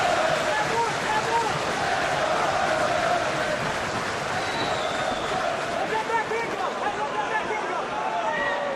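A packed arena crowd in Dublin at a UFC bout between Gunnar Nelson and Zak Cummings keeps up a loud, continuous roar of cheering and chanting, with indistinct voices blended into the din.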